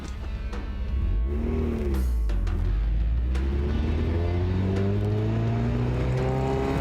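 A rear-wheel-drive drift car on slick rear tires accelerates hard out of a corner, its engine note climbing steadily in pitch and staying loud and close throughout, with no talking.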